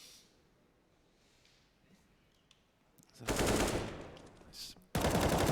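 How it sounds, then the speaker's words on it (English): Gunfire in Counter-Strike on the Mirage map during a professional esports match: after a quiet stretch, loud dense bursts of rapid automatic shots break in, stop briefly, then resume just as loud. "Shots."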